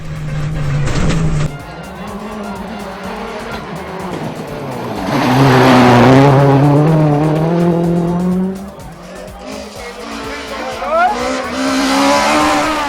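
Paul Bourne's Ford Focus WRC rally car tearing through a Barbados rally stage, its engine revving hard and rising in pitch through gear changes, loud and close, with a broad burst of gravel and tire noise mid-run.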